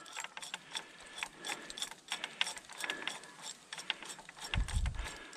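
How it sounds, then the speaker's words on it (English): Spring clamps are fitted onto a BMW 1 Series shock absorber spring, giving close, irregular metallic clicking and ratcheting, with a soft low thump near the end. "take the tension off the spring. And we're going to do that with the use of spring clamps"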